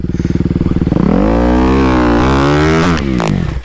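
A motorcycle revs hard as a learner rider opens the throttle and lets the clutch out: a loud, close engine note climbs and holds steady for a few seconds, then drops and sputters near the end.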